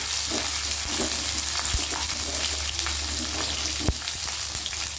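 Drumstick (sajne data) stems fry in hot oil with dry red chilli and five-spice tempering, giving a steady close sizzle throughout, broken by a couple of sharp utensil knocks.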